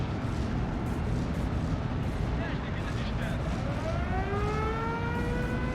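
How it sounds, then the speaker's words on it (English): Artillery barrage landing in the WWII strategy game Steel Division, a dense, continuous roar of shell impacts and rumbling fire with rising whistling tones near the end, loud and sustained throughout. "Always glorious to see this artillery coming in from this perspective."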